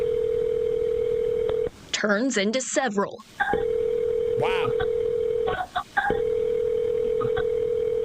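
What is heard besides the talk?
telephone ringing unanswered on a 911 call recording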